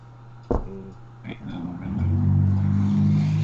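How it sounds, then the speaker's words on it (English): A truck passes by outside, starting as a low rumble after a short thump and swelling into a loud, sustained engine drone that holds to the end. "Man, that's loud. What was that? That was a truck going by Jay's."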